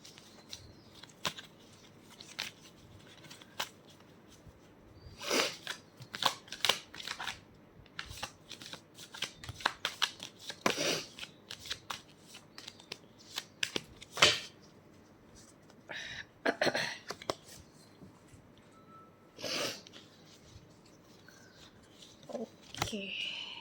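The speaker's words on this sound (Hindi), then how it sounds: "so we shuffle the cards" Tarot cards being shuffled by hand in repeated crisp riffling and sliding bursts, close and fairly quiet, with pauses between the shuffles and someone speaking softly at times.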